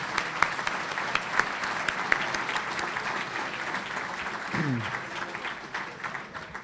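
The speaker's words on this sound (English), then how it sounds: "Let's give them a round of applause." An audience at a county government presentation applauds, a steady crowd of clapping hands with a few sharper close claps, lasting several seconds and fading slightly toward the end.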